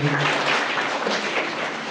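Audience applause at a school inter-school debate competition results ceremony, a steady dense wash of clapping throughout, fairly loud and continuous with no clear breaks.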